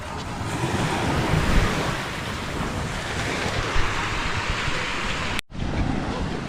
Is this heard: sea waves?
yes